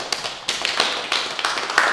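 Scattered clapping from a small group at a Young Vic community theatre session, a few uneven hands patting at once rather than full applause, fairly close and steady for two seconds.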